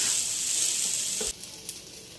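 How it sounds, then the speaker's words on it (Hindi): Fried rice frying in a pan with soy sauce, a bright steady sizzle that cuts off suddenly partway through, leaving quiet background with a couple of soft knocks. "थोड़ा सा हम सोया सॉस डालेंगे और इसको अच्छे से फ्राई कर लेंगे।"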